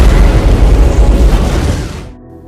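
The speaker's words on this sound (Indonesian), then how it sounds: "Tapi tidak lama kemudian Chris langsung meledakkan sang monster." A loud, deep explosion booms as a monster is blown up in a zombie film, the rumbling blast holding for about two seconds before cutting off sharply.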